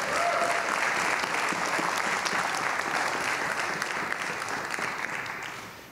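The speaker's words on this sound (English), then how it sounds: "So give everybody a round of applause." Audience at a live podcast recording at an amusement-industry leadership seminar claps in a dense, sustained round of applause, close and loud throughout, tapering slightly at the end.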